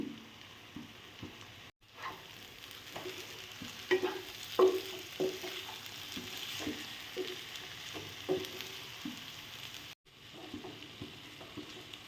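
Eggs added to a dried shrimp curry in a hot pan, with a steady soft sizzle and repeated scrapes of a spoon stirring against the pan, close and alone with no talk.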